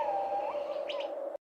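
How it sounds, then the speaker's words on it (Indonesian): A bird sings in a forest, close and clear: a sustained whistled tone with a couple of quick higher chirps, ending abruptly after about a second and a half. "Hutan adalah rumah yang indah, penuh suara burung dan angin sejuk yang menenangkan."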